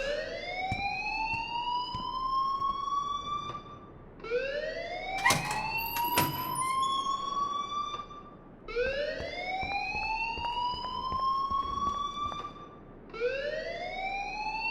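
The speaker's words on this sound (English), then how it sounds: "please turn off that alarm since that's your job" A school fire alarm in the Life is Strange video game rings in long, loud rising electronic wails, four sweeps with short gaps between them, while sharp clicks and thumps sound underneath.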